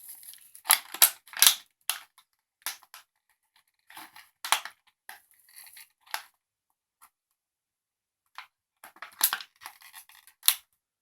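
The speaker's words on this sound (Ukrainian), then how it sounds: "Ми відкриваємо горошки Marbles і трешпек." Trash Pack toy packaging being opened, with scattered sharp crinkles and tearing snaps of plastic close up, coming in irregular bursts separated by quiet pauses.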